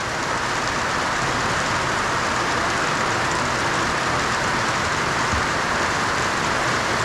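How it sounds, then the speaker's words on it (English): Heavy rain pours down during a ride home, a loud, constant hiss of water that stays even from start to finish. Nobody talks over it. "You can see the rain there. It's really bucketing down now."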